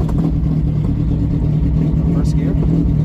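A 1967 Toyota Publica fitted with a Hayabusa engine, in first gear, makes a close, loud, steady harmonic engine drone with slight rises in pitch, and a voice can be heard over it.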